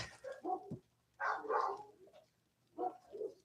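A puppy barks indoors in a home with dogs, giving a few faint, separate yaps and short barks spaced apart across the stretch.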